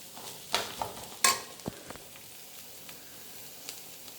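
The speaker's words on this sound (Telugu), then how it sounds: "కొంచెం వేగనిద్దాం." Vegetables for a chikkulu curry with senagalu fry quietly in a pan, soft sizzling broken by a few sharp stirring clinks and scrapes, with no voices.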